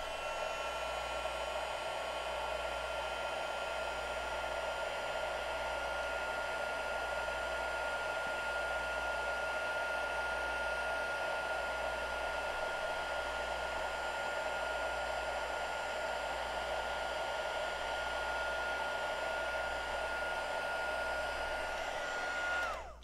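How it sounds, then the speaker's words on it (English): A heat tool blows a steady, even whir while melting embossing powder on paper, running continuously at close range and cutting off right at the end, with no voices. "Grab a heat tool."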